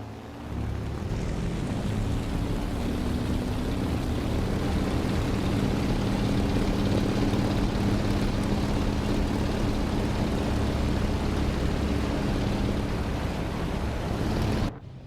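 A P-39 fighter plane's engine drones in the War Thunder video game, a loud, steady roar with a low rumbling hum that holds for about fifteen seconds before cutting off abruptly.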